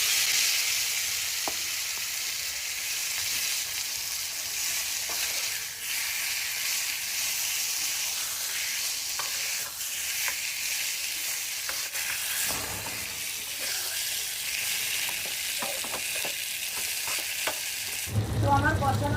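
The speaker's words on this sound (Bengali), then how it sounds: "তো এর মধ্যে আমি দিয়ে দিচ্ছি শুকনো লঙ্কা, তেজপাতা, লবঙ্গ, এলাইচি আর দারচিনি।" Dry red chilli, bay leaf, clove, cardamom and cinnamon frying in hot mustard oil: a continuous bright sizzle with occasional crackles and stirring, heard close up and alone.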